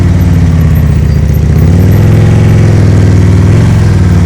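A motorcycle ridden at slow speed in a riding skills practice session, its engine kept on a steady raised throttle throughout, a loud continuous mid-pitched hum that swells a little partway through, with no voices over it.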